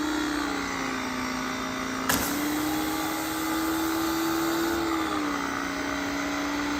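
A pressure washer runs steadily outdoors near a gazebo and plants, a loud continuous motor drone and hiss with a slight pitch shift partway through and one brief sharp knock, close up with no speech.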